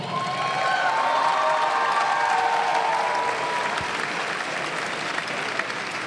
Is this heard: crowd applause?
yes